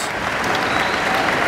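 Crowd applause at a lucha libre wrestling show, a dense continuous wash of clapping at fairly close range.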